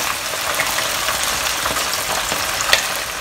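Chicken pieces fry in a pan with a dense, continuous sizzle and crackle, close and fairly loud, with small pops scattered throughout and no voices.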